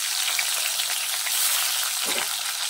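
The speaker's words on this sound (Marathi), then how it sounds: "मोहरी तडतड झाली की थोडेसे जिरे घालायचे आहेत आणि जिरे तडतड होत असताना आपल्याला जे स्लाइडमध्ये टोमॅटो कट केलेत ते घालायचे आहे" Cumin seeds and tomatoes crackle and sizzle steadily in hot oil with mustard seeds, a continuous close frying hiss with a brief stir near the end, for a capsicum, dal and potato tiffin dish.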